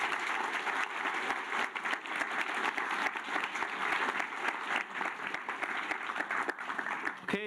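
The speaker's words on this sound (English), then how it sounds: "Maybe first we could give a huge round of applause for our panelists." Sustained audience applause for the panelists at the HANALYS 2020 event, a dense, steady patter of many hands clapping at moderate volume for the full stretch, tapering slightly at the very end.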